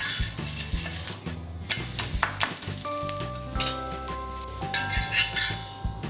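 Ragi roti sizzles in oil on a dosa griddle. A steady, crackling fry is broken by metallic clinks and scrapes of a utensil against the pan, with no voices.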